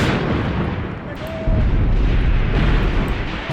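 Anti-personnel rounds explode in a WW2 desert battle game featuring the Afrika Korps, a dense, loud barrage of booming blasts and gunfire rumbling continuously with a heavier surge midway.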